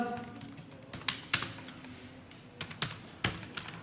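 Someone types Tailwind CSS code on a computer keyboard in a few sparse, close key taps and short clusters, separated by pauses over a low background hum.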